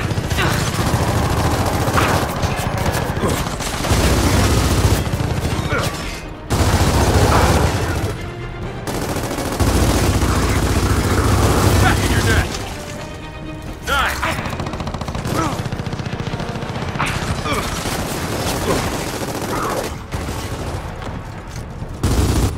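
Heavy gunfire bursts in Gears of War 4, loud fusillades of rapid shots and booms in repeated waves across the whole stretch, with occasional voices underneath.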